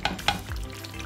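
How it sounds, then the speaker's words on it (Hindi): Meat fries in a pot for a Desi aloo gosht dish, a soft sizzle broken by two sharp scrapes of a spoon stirring, close and without voices. "अब 5-6 मिनट हम इसको इधर भूनेंगे"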